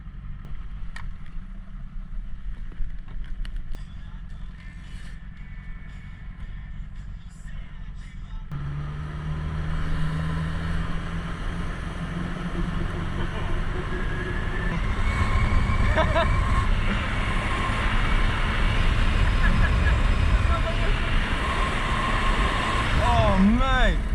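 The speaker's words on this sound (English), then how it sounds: "First time the boat is in the water." A rebuilt motorboat on its first run on the water, starting as a low idle under talk, then the engine builds to a loud, steady roar with rushing water and wind noise.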